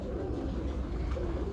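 A prized show pigeon coos softly and continuously at close range, low rolling tones steady throughout with no talking.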